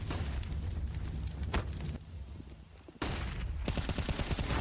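Flashbang grenades and gunfire in a Counter-Strike match: bursts of sharp shots and blasts, with a sudden loud bang after a brief lull followed by rapid repeated shots.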